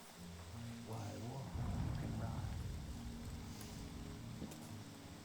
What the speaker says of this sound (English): didn't expect it to be raining.